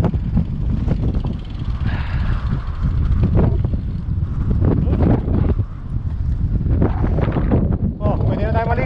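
Strong seaside wind at Whitby near the lighthouse, buffeting the microphone in a constant loud, low roar, with people talking faintly beneath it.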